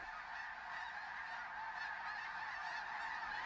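Dense, continuous chorus of snow geese honking at rainwater basin wetlands, thousands of overlapping calls forming a steady, loud wall of sound with no gaps.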